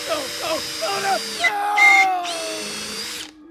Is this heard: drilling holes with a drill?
yes